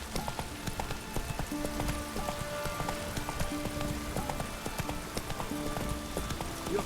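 Roach, the horse in The Witcher 3, gallops with a steady, rapid clip-clop of hooves over continuous rain. No voices are heard.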